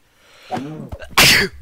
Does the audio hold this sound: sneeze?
yes